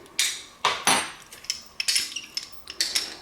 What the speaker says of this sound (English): take this garlic that I'm squeezing right now